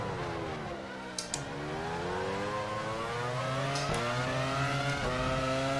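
A Formula 1 car engine in the video game F1 Challenge 99-02 at San Marino whines and revs, pitch climbing through gear shifts, with brief clicks and a persistent mechanical drone close by.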